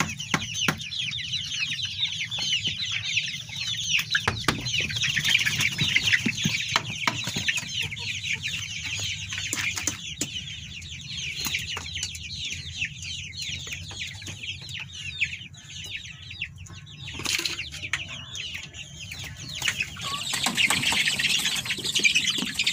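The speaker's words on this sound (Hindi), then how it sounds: "तो चलते हैं, पहले आपको दिखाते हैं चूजे।" A crowd of Lohman Brown chicks kept for sale chirps steadily, with many high peeps overlapping at close range throughout.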